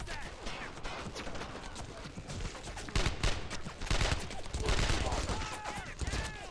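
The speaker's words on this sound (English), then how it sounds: "They have machine guns." Machine gun fire in the World War II shooter Brothers in Arms: Earned in Blood, a dense, sustained clatter of automatic bursts and scattered shots that swells louder in the second half, with voices talking over it.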